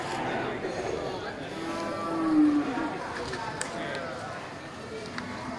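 Aceh cattle mooing at a crowded livestock market, a drawn-out low call standing out over steady background chatter and bustle, with other animals and people talking nearby.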